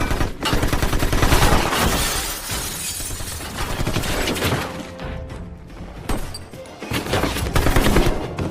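Gunfire in a film shootout: loud, dense bursts of rapid shots with shattering and breaking debris, surging in waves with a brief lull before another heavy volley.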